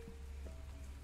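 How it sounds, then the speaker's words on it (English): Rain falls outdoors near garbage cans at night, a faint, steady wash of drops with a low background rumble and no talking. "Got some rain."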